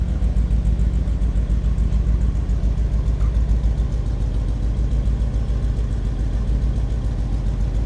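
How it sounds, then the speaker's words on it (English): A 1957 Buick Super Riviera with its original numbers-matching nailhead V8 idles steadily, a deep, even, throbbing rumble with a mild exhaust note, close and continuous with no talking. "just nice sounding nailhead V8"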